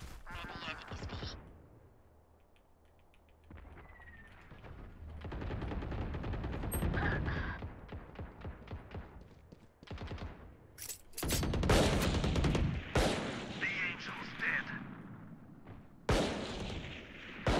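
Video game gunfire comes in sharp bursts and rapid volleys, with quieter gaps between the louder stretches.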